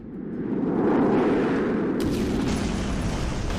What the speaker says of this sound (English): The placement of these explosions is random every time that you use this